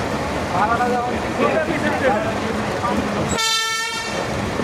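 An amusement park ride train at Fantasy Kingdom sounds a sustained horn toot near the end, after several seconds of busy crowd noise and chatter with the rumble of the ride in the background.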